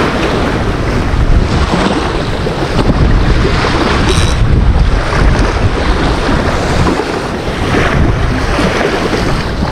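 Strong wind roars steadily across open water from a fishing boat, buffeting the microphone with loud gusts over the wash of waves and surf, with no voices throughout.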